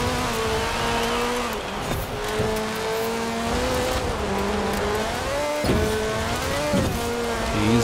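Car engine held at full throttle during a rat rod drag race in Forza Horizon 4, a loud continuous roar with shifting pitch, brief gear-change dips and a touch of tire squeal, no voices over it.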